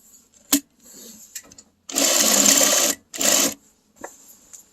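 A sewing machine stitches back over a bag seam in two loud runs, one of about a second and a second shorter one, with faint handling clicks and taps before and after.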